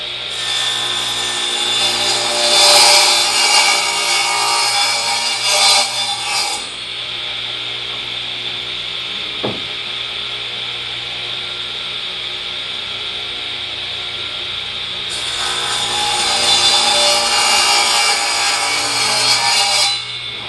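Hand sawing trims a small piece off a wooden workpiece: a steady, close rasping that runs for several seconds, drops to quiet, then resumes near the end.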